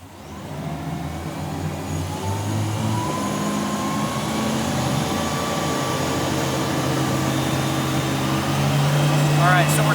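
A fully loaded wake boat's engine climbs toward surf speed, with a rising, steady drone building in loudness over ten seconds and a rushing whine late on.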